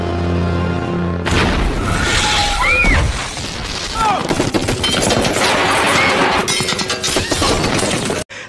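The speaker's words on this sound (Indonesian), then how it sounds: "Nyata saja rumahnya dihantam sebuah bom disertai dengan tembakan senjata." A bomb blast and bursts of gunfire tear through a film scene, with a heavy boom, crashing debris and rapid shots filling several seconds at high loudness, with a narrator's voice heard over the action.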